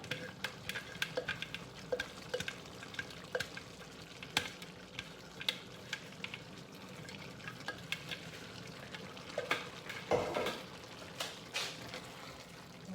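Blended okra stirred into a cooking pot for a Nigerian traditional dish, with repeated close scraping and sloshing strokes in an uneven rhythm over a soft sizzle, no voice.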